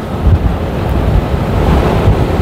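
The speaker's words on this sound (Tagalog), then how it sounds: "Napakalakas ng hangin, grabe." Strong, gusting wind buffets the microphone in a steady low roar during an outdoor bike race in rainy weather, loud and continuous with no talking.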